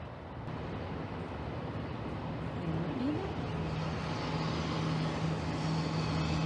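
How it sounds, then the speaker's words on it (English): A street sweeper rumbles steadily as it passes along a street, a continuous broad engine-and-brush drone holding at moderate loudness throughout with no voices. "It was the street sweeper that made that noise."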